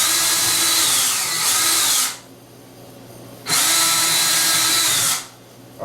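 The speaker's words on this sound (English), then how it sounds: "I drill the holes for the anchors" A power drill bores anchor holes into sheetrock in two loud, sustained bursts of whining, each about two seconds long, separated by a quiet pause.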